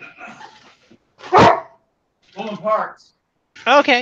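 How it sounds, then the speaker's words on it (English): A dog gives one sharp, loud bark from inside a house or garage, set between brief bits of nearby conversation. "Yeah, that's a dog."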